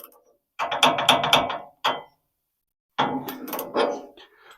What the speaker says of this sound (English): I'm tightening the tension bolt for the blade. And I'm going to tension it to 35 pounds on the torque wrench